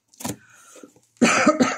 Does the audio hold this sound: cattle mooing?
no